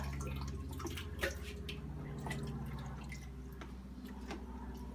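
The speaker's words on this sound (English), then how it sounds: "you can now pour it into the blender" Soaked paper pulp pours into a blender: wet, sloshing liquid pours steadily with scattered drips and splashes over a low constant hum, close by and moderately loud.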